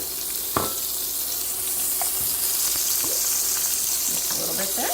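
Sliced onion hits hot olive oil in a pan over medium heat and gives a loud, steady, close sizzle with occasional stirring scrapes throughout.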